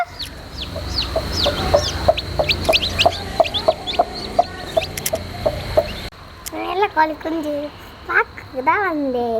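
Domestic hen and chicks make repeated soft clucks and high peeping calls close by, a steady run of short notes, joined later by a few rising chirps and brief child-like voices.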